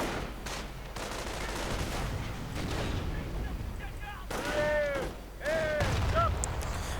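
Real-time strategy battle with grenadiers and riflemen firing rifles and blasting away, steady crackling gunfire and thuds through the whole stretch, with some bright tonal game effects near the end and a narrator talking over it.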